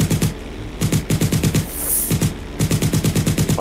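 Rapid automatic gunfire in GTA 5 roleplay, repeated bursts of loud machine-gun shots with brief pauses between volleys, close and dominant.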